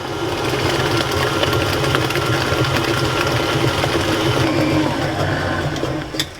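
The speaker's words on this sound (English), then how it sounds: "Now I have a beater blade on my mixer" An electric stand mixer with a beater blade churning cherry almond cookie dough, a steady close mechanical whir holding constant, then a brief knock near the end.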